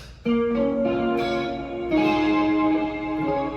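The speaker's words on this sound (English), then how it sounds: "Chorus sounds like this." Clean electric guitar notes and chords with a shimmering, watery chorus effect, sustained and ringing, played alone with a lush wide sound.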